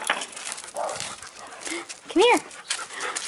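A playful dog pants and whimpers with quick, excited breaths during a game of fetch, close by, while a person talks over it and its paws patter on the floor.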